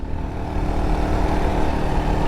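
A motorcycle on a road trip through rural Cambodia runs with a steady, close, rumbling engine note that shakes more than usual, a constant loud idle with no talking.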